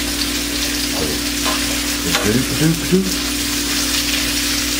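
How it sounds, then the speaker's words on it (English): Onions being stirred in a pan and fried until soft and translucent for slow cooker collard greens with bacon, a loud steady sizzle under a low hum with brief scraping stirs. "we're going to kind of stir them around, get them busted apart there, till the onions just start to kind of get soft"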